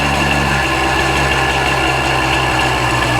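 A 1965 Montgomery Wards Benelli scrambler motorcycle engine running loud and close, a steady dense buzzing drone with a rapid low pulse and no letup.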